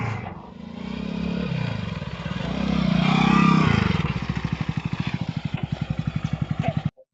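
A motorcycle engine starts up and revs, then settles into a fast, regular put-put idle of closely spaced pulses before cutting off abruptly at the end, sounding close by.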